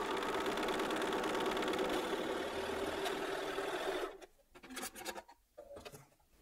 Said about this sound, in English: I'm going to sew a quarter of an inch either side of this line